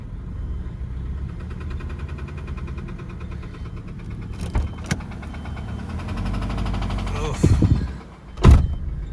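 A troubled Toyota Camry that has been sitting for about an hour, restarted: a steady low engine rumble with a few sharp clicks midway, then a louder surge of cranking and revving near the end.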